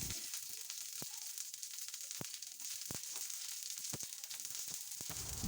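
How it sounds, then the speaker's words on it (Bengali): Onion rings sizzle on a hot sizzler tray for a beef sizzling dish, a steady loud hiss and crackle with sharp spits and pops throughout, no voices. "সিজলিংয়ের সেই স্পেশাল সাউন্ডটা কেমন লাগছে আপনাদের?"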